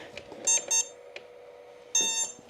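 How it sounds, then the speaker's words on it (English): A low-battery warning emits short, sharp electronic beeps in quick bursts, a double pulse followed by another after a pause, close and fairly loud over a quiet workbench background. "Bro, stop beeping at me, battery."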